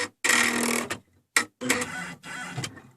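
A computerized embroidery sewing machine stitches a tack-down onto a towel, running in several rapid mechanical bursts separated by short pauses, close and steady.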